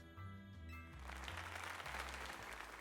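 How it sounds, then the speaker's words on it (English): Crowd applause from the Pokémon Legends Z-A video game swells in over game music, a dense wash of clapping that holds steady under the tune. "Now then, let's give another heartfelt round of applause."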